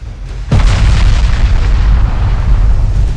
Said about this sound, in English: torpedo hit and flooding. He will sink.